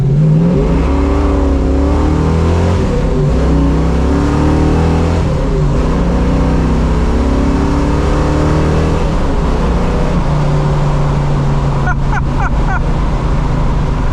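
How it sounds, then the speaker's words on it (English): A 1970 Mustang Fastback restomod engine roars loudly and steadily through a first-gear full-throttle run, deep revving tone climbing and sustained, with a brief lift near the end. "Should we do a first gear power run?"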